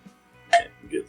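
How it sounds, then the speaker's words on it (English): A cork pulled from a bottle of 2XO French Oak bourbon whiskey gives one short, fairly soft pop near the middle, followed by faint handling sounds, with no talk. "A little bit of pop there."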